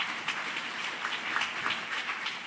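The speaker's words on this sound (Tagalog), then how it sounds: "Isang malakas na palakpak para sa mahal na Panginoon." A church congregation applauds during a Sunday worship service, a steady, dense wash of many hands clapping together that holds evenly throughout.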